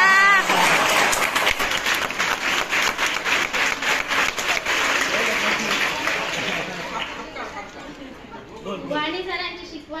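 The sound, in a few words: audience applause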